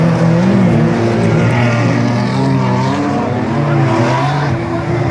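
A Toyota stock car in the Heckler class races in a final heat at the MSC Schlössl stock car event. Loud revving engines drone and shift pitch close by, with faint commentary underneath.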